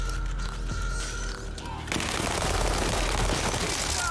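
Gunfire in the shooter game WW3 erupts in the second half as a dense rattle of rapid automatic shots, loud and close, after a quieter stretch of ambient game sound.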